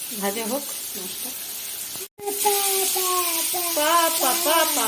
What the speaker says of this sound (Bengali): ভাজা হোক মাছটা।